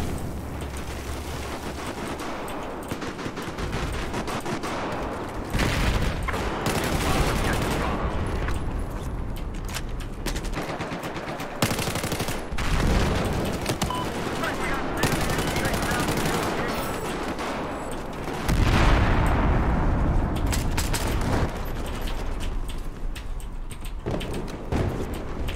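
Battlefield 4 gameplay gunfire: dense, loud bursts of automatic weapon fire and sharp shots, with booming impacts and explosions, nearly continuous for about 25 seconds, under a man's occasional speech.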